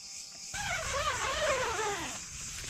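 Insects chirp at night in a forest campsite, a dense, faint chorus of rapid buzzing trills that swells after a quiet start and keeps going steadily to the end.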